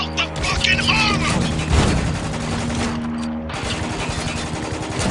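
Gunfire rattles through a firefight in the shooter game Spec Ops: The Line, dense bursts over loud battle noise with a voice mixed in.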